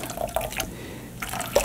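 Homemade almond milk, from almonds and water, poured back and forth through a strainer, giving soft splashing and dripping in two short bursts separated by a quieter pause, close and fairly faint.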